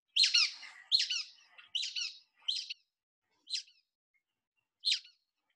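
A brown-headed nuthatch in pine woods gives a series of high, squeaky-toy-like chirps, several in quick succession and then spaced farther apart, clear and moderately close against a silent background.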